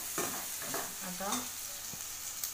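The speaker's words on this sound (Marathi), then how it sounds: "कढीपत्ता, जिरे चांगलं परतून घ्यायचं" Curry leaves and cumin fry in a pan with a constant close sizzle, while a voice talks quietly over it and a few stirring knocks are heard.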